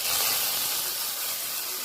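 Lentils frying with onion and cumin in a hot pan give a steady, broad sizzle and hiss, loud and close, continuing unbroken for a couple of seconds with no voices.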